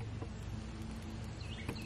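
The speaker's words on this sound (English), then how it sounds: "Hear like squeezing? That's actually the water trying to evaporate." Wet firewood burning in a campfire in the woods gives off a faint, continuous high squeaking hiss as water steams out of the logs, under a soft crackle with no one speaking.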